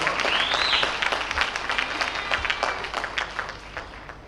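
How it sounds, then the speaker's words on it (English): An audience at a preparatory school graduation ceremony applauds the graduates with a full round of clapping that starts loud and gradually thins and fades, a faint tonal sound briefly audible near the start. "Give them another round of applause."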